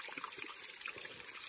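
Running water from a village spring makes a soft, steady trickle and gurgle, faint and continuous for a brief moment with no talking.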